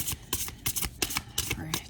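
Oracle cards shuffled by hand in quick, crisp riffling bursts at close range, repeating rhythmically for about two seconds.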